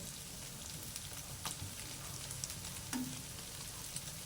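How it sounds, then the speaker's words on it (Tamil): An egg crackles and sizzles in a hot pan while kueh teow goreng is being cooked, giving a steady hiss of frying broken by a few soft clicks and taps. "முட்டை நல்லா பொரிஞ்சு வந்துருச்சு"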